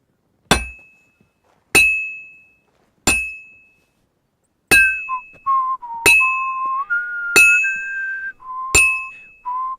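Bell in Kingdom Come: Deliverance II, struck seven times at steady intervals, each clear metallic strike ringing out and decaying. The later strikes carry a sustained wavering tone, with no talk over them.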